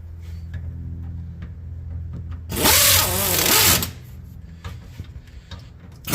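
A power tool snugs down a bolt on the bearing caps during an axle and gear upgrade, one loud burst of about a second and a half between quieter clicks and handling, close by and with no voices.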